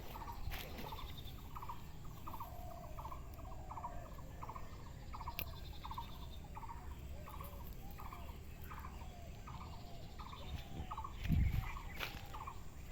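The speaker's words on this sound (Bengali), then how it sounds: "কি সুন্দর পাখির আওয়াজ হচ্ছে না" Repeated bird calls sound from open fields in rural Bengal, a regular series of short pulsed notes carrying steadily at moderate distance over soft ambient noise, with a brief thump near the end.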